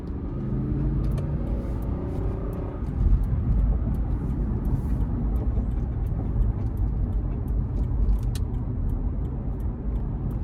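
2014 Lexus GX 460 Premium with a 4.6-litre V8, heard from inside while driving under throttle: a steady low engine drone and road rumble, swelling slightly after a few seconds, with no talking.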